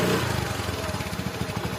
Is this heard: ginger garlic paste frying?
no